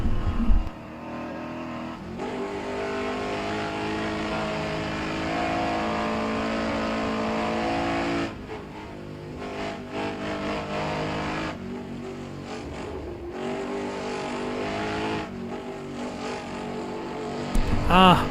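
Peugeot 106 race car engine in rFactor 2 during night qualifying, droning and revving steadily with gear-change dips, loud and continuous throughout, with a brief burst of talk near the end.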